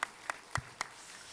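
A church congregation claps to welcome someone, a few sparse, distinct claps spaced out over a second, fairly faint in a roomy hall.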